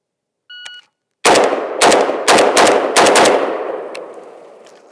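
A Galil Ace rifle chambered in 7.62x39 fires a rapid string of about six loud, close shots outdoors after a short electronic beep, each blast cracking sharply with a long echoing tail that fades out.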